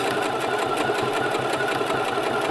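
A sewing machine stitches T-shirt fabric up close, its needle chattering in a fast, steady rhythm with a continuous motor hum and no pauses.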